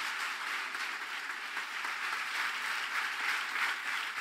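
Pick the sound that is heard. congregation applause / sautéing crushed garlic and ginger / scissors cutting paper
congregation applause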